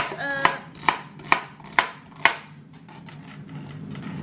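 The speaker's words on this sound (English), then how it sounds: "Chop this up." Celery chopped with a knife on a cutting board: five crisp, evenly spaced chops up close, then a quieter stretch of faint handling noise.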